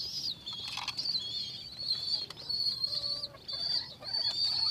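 Old-breed Sapchila pigeons, including a hen, arrive in a loft with bursts of wing flapping. Nearby clucking, cooing bird calls and high chirps recur over a soft background hum.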